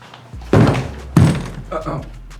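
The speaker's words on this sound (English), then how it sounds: "Our door's a little beat up" A beat-up office door at a junk removal company's call center is pushed open with two heavy, close thunks and a lighter knock after, while voices murmur in the room.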